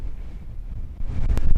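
Wind gusts across the open Kinder Scout moorland plateau at about 633 metres, buffeting the microphone in a low rumble that swells louder toward the end.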